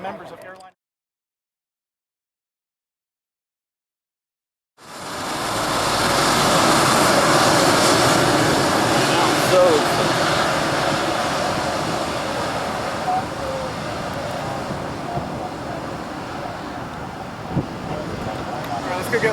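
An Embraer Lineage 1000 (E-190) jet takes off at San Jose International, its engine roar rising abruptly after a brief silence and then holding loud and steady, broad and rushing, with a slight fade as it climbs away.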